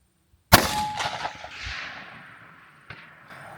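A single sharp rifle shot cracks out loud and close, fired from a rifle braced on a tripod rear support at a target, followed by a long echoing decay and a faint later knock.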